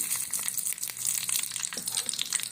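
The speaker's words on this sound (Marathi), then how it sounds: "तेल आता आपलं तापलेलं आहे त्यात टाकूया मोहरी लाल मिरची आहे" Mustard seeds and dried red chillies crackle in a pan of hot oil, a close, dense, steady sizzle with sharp little pops scattered throughout and no talking.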